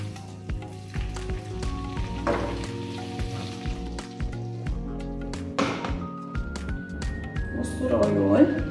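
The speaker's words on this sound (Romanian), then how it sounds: "Peste unt voi turna zeama de lămâie." Lemon juice hits melted butter in a hot pan, a sizzle that swells into a louder burst near the end, while a person talks over most of it.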